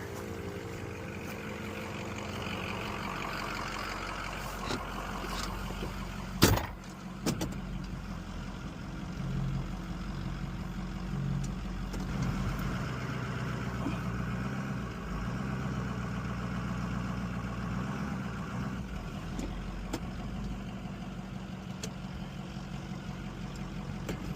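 An old diesel truck, abandoned for over twenty years, runs steadily at a low, continuous rumble throughout, with one brief sharp knock partway in and no talking.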